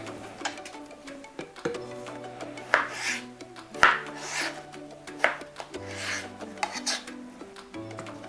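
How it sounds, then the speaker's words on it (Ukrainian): Soft mozzarella being rubbed across a fine grater, a close scraping rasp in uneven strokes with occasional light knocks. "Далі натираю м'який сир моцарелла на дрібну терку."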